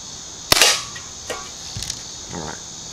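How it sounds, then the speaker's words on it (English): A BB gun fires at a can outdoors, one sharp snapping shot with a short ringing tail, followed by faint small knocks and rustles in a quiet setting. "we're going to take another shot at that can"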